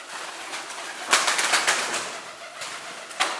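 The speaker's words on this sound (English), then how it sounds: "Seems like hundreds of pigeons in here which are stuck." Hundreds of pigeons trapped inside a huge abandoned mall in Europe make a diffuse, echoing din of fluttering wings and scattered coos, with a few sharper flaps standing out from the steady background.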